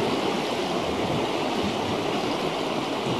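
The Tirlyanka river rushes in spring flood, meltwater churning loudly in a dense, even roar that stays close and constant throughout, with no voices.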